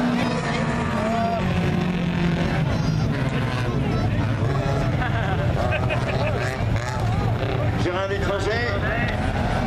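Race cars in the 2-litre class of an autocross final at Plumelec rev and roar off the start, their engines blending with crowd noise under continuous announcer commentary.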